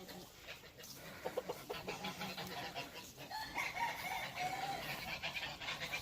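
Game chickens cluck and crow in an outdoor yard, a mix of scattered clucks and a drawn-out crow rising partway through, fairly faint and distant with some background noise.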